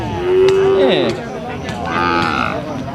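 Cattle at a busy livestock market in Ban Yung Thong, Thailand, let out a loud, drawn-out moo up close, followed by a second fainter lowing call in the background over crowd noise.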